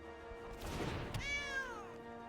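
A single cat meow sound effect plays from a cat card in the Magic: The Gathering video game, rising and then falling in pitch over a steady low background tone.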